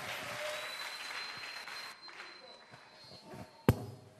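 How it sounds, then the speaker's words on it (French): Church congregation applauding, a steady faint patter of many hands clapping over a few seconds beneath a speaking voice, ending with one sharp loud thump. "Acclamons très fort pour le roi de roi."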